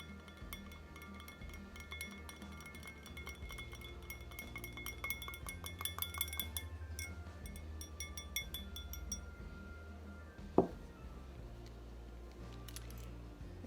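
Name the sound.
stirring beard oil mixture in a glass container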